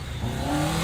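Old Chery car being driven hard, its engine revving steadily and rising in pitch, loud and close with a continuous rough tone and no talking.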